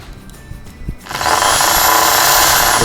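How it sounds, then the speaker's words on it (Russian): A power drill spins up on a roof repair job, starting after some faint knocks and then running as a loud, steady high whine for the rest of the stretch. "Да заведи дрель с другой стороны."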